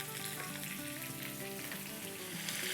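Bitter gourds stuffed with chicken kebab mixture fry in a pan, a soft, even, continuous sizzle with faint stirring and turning sounds, no voices.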